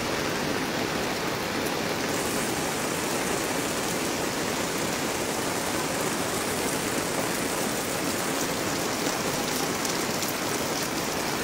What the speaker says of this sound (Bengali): ভারী বৃষ্টি হচ্ছে, কালকে রাত থেকে ভারী বৃষ্টি হচ্ছে, থেমে থেমে বৃষ্টি হচ্ছে।